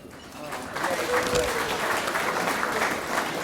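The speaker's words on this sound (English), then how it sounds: "Please hold your applause, just kidding." An audience at an executive awards night claps steadily as names are read out, the applause swelling after a moment and continuing as a broad, even patter, with a voice speaking over it.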